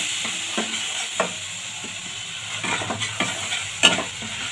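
Spice paste with ground melon seeds, cashew, turmeric and a splash of water frying in a pan, a soft steady sizzle broken by scattered spatula scrapes and taps, close and moderately quiet.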